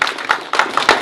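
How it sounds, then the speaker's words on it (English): Audience applause for a speaker at a technology meetup, a brief dense burst of hand claps from a nearby crowd, loud and uneven, with no talk over it. "Can we get another round of applause for her?"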